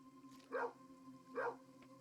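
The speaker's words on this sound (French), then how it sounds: "C'est bizarre, il aboyait à droite." A dog barks in the video game Kingdom Two Crowns, two short, faint barks spaced about a second apart over a steady droning game soundtrack.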